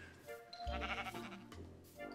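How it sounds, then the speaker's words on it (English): Minecraft sheep bleats, a wavering call near the middle of the clip with harmonic ripples and a lower tail, heard alone in the game world without speech. "Oh, black sheep. I can only see sheep around me"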